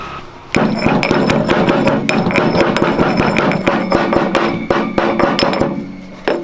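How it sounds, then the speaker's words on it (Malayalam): Black peppercorns are pounded and crushed in quick, sharp, repeated knocks, a dense steady rhythm of close hard impacts lasting several seconds without speech. "ഒരു ടീസ്പൂൺ കുരുമുളക് ഒന്ന് ചതച്ചെടുക്കാം"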